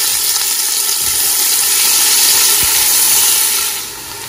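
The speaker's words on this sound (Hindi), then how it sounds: "अब उसी बर्तन में मैं प्याज डाल रही हूँ" Onions sizzle in a cooking pot for mutton pulao, a loud, steady, close hiss that fades slightly at the end.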